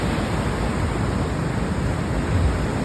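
Ocean waves at a Bali beach at night with the tide high: a steady, loud, broadband rush of surf with no distinct breaks, heard alone without voices.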